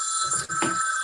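A phone rings close by with a bright, steady electronic trill across the whole short moment, broken by one tiny gap.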